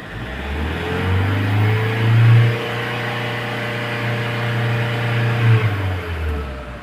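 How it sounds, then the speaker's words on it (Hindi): The engine of a Mahindra XUV500 with a poor-pickup fault and check-engine light rises to about 3000 RPM and holds, a loud close steady drone swelling twice as the throttle is pressed. "जैसे ही हम RPM लेंगे 3000 तक"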